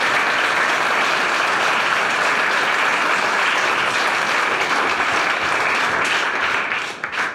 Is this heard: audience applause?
yes